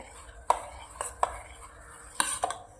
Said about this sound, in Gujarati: સરસ હલાવીને મિક્સ કરી લઈએ